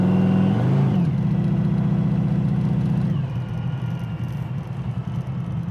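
1963 Chevrolet Nova engine rising through a rev, then holding a loud steady run before dropping back to a lower, rougher running tone, close up with no talking.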